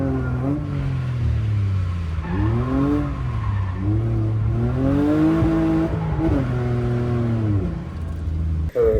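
Drift car driving flat out on a free practice track at a drift competition, engine loud and close, revving up and down in repeated sweeping waves with a sharp click near the end.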